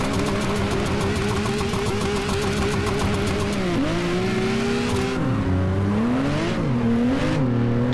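A race car in the Assetto Corsa video game, a Z280 at Ottawa South Circuit, holding a loud steady high rev before the clutch drops, then the engine note falls and climbs again as it launches and pulls away.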